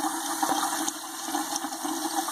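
Water pouring and gurgling steadily as it fills an ultrasonic cool-mist humidifier reservoir, close and continuous with no talking.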